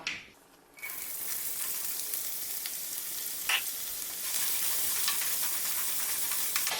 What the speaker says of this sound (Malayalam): ഇനി ഞാൻ ഇതിലോട്ടൊരു മൂന്ന് വലിയ സവോള ഇതുപോലെ നീളത്തിൽ ചെറുതായിട്ട് സ്ലൈസ് ചെയ്തെടുത്തതാണ് ഇത് നമുക്കിതിലോട്ട് ചേർക്കാം